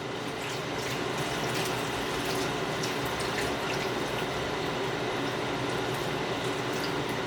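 Water pours steadily from a pot onto BBQ ribs in a pan, a continuous splashing trickle with no break.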